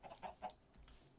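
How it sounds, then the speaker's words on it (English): Minecraft chickens give a few soft clucks in quick succession, faint and close together, followed by quiet. "Why is there so many chickens?"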